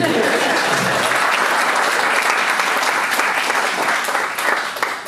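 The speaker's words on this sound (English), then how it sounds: "Round of applause for Steve Coogan" An audience at a book launch event at HOME in Manchester gives loud, sustained applause, a thick continuous wash of clapping that holds steady and tapers slightly at the end.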